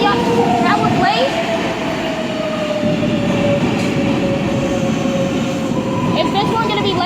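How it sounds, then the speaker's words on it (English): A New York 7 subway train arrives at the 34th Street station: a loud, close, continuous rumble of wheels on rails, with a sustained squealing tone running through it. "Trains are coming in."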